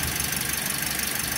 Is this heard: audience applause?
no